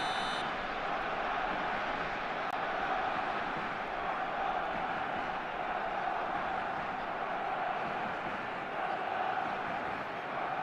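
A stadium crowd in the eFootball video game keeps up a steady dense roar with faint whistle-like tones, unbroken and evenly loud throughout, with no clear peaks.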